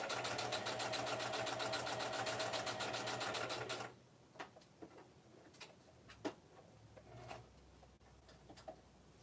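A sewing machine stitching through a handmade card runs in a fast, steady mechanical chatter for about four seconds, then stops, leaving faint clicks and handling taps nearby.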